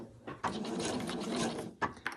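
A sewing machine stitches along the bottom edge of a fabric card-pocket travel wallet, a close, faint rapid whir running steadily for about a second and a half between soft clicks.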